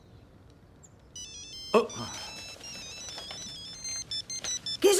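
A mobile phone ringtone plays a melodic electronic tune that grows louder, with a sharp clatter partway through and a man's brief exclamation and nearby talk around it.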